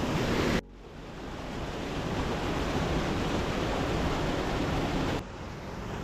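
Rushing water from waterfalls and pools in the Lake District, swollen with recent rain, gives a steady, loud broadband roar that fills the clip without a break, with a short dip in level near the start and again near the end.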